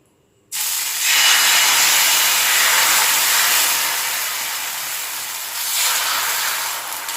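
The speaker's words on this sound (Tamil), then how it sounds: "நம்ம இப்போ தோசை ஊற்றிடலாம்." Wheat-flour dosa batter hits a hot griddle with a sudden loud sizzle that holds steady for several seconds, then swells again briefly toward the end, with no talking.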